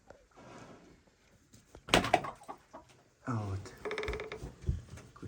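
Chickens and a frizzle-feathered Liven rooster in a farmyard, with scattered clucks and a loud crow-like call, plus a nearby mechanical clatter and a voice talking softly.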